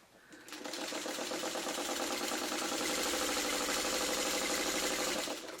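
Sewing machine running a leader ender while quilting, a fast, steady mechanical stitching chatter that starts up, runs evenly for several seconds close by, then stops.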